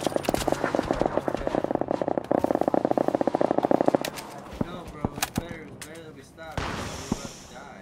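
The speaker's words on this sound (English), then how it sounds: "We were shooting at somebody." In the PUBG video game, rapid automatic gunfire rattles out in a dense burst for several seconds, then gives way to scattered single shots and a voice talking.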